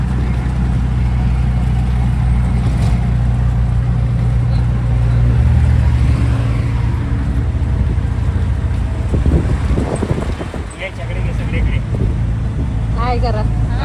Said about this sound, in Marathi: ऑटो रिक्षामध्ये बसलेलो आहे आम्ही